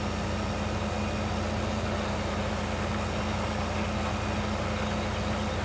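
Tractor engine idling in Farming Simulator 15, a constant low rumbling drone with a steady hum, loud and unchanging throughout with no voices.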